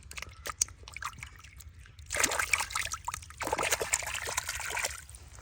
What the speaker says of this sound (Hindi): ये सिर्फ मिट्टी उतारने के लिए धो रहे हैं।